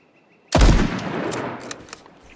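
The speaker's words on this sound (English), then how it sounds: "There's a lot of shots going off." Gunfire from the survival video game H1Z1 Just Survive: one sharp, loud blast fades into a rumbling tail, with a few fainter shots popping after it. No one talks.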